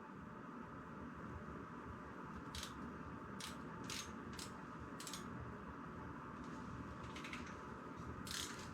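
Freehub ratchet on a 2022 Norco Sight full-suspension mountain bike wheel ticks in short bursts of rapid clicks as the wheel spins, close and quiet over a low background hum, with no speech.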